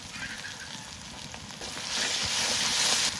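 Ground cumin and coriander paste frying with mutton in oil in a village-style kitchen, a steady close sizzle that swells louder and brighter partway through, with faint stirring scrapes and no voices.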